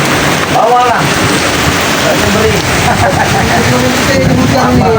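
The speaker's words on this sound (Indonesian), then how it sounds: "Hujan nih. besar Hujan ini." Heavy rain pours in a dense, loud, unbroken roar, with a faint rumble of thunder underneath and people talking over the downpour.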